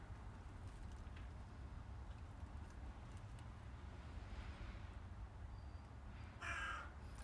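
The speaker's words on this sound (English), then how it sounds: "Oh, hang on, the crows are off now." Crows caw outdoors, mostly distant and faint under a constant low rumble, with one louder, harsher call near the end.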